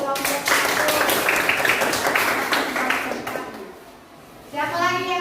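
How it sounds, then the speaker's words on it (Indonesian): Classroom applause for a student group after a presentation, a burst of children's clapping mixed with kids' voices, fading out midway before a teacher's voice takes over. "Kita beri tepuk tangan untuk kelompok 1"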